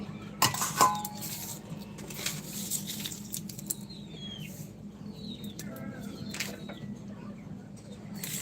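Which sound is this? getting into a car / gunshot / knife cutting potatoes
knife cutting potatoes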